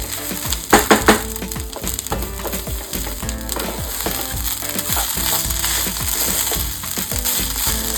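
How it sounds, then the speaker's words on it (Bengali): Rice frying in coconut oil in a pan for ilish polao, a steady close sizzle with scraping stirs and clatter of a spoon throughout. "এই চালটা মোটামুটি 2 মিনিট মতো আপনার ভেজে নিতে হবে।"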